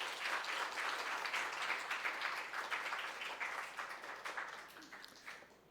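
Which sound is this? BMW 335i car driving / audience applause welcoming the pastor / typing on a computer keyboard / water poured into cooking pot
audience applause welcoming the pastor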